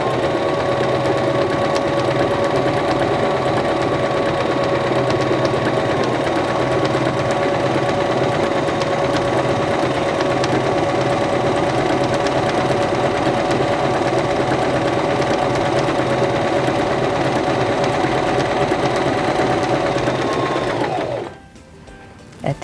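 A SINGER Start 1304 sewing machine stitches steadily at a constant speed, its mechanical hum loud and even with no talk, then it stops abruptly near the end.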